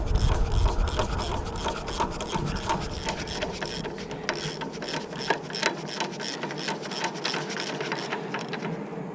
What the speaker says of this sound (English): Once you do that, you can just start by hand, just tighten it down.